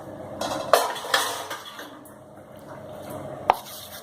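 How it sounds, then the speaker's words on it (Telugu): Mango pieces and gongura leaves go into a cooking pot, giving a few sharp clinks of utensil on metal and soft rustling drops, with a faint background hum between the knocks. "ఇప్పుడు మామిడికాయ ముక్కలు ఇందులో యాడ్ చేసుకుందాం. ఇప్పుడు గోంగూర కూడా ఒకేసారి గోంగూర వేసుకోవాలి."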